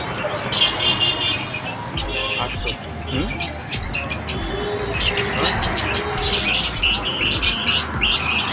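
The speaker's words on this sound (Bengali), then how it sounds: "এগুলো 350, 400, 1500 বদ্রি পাখি আছে এখানে।" Budgerigars chirp and tweet in a crowded bird shop, a dense, constant flock chatter of overlapping high calls with voices talking over it.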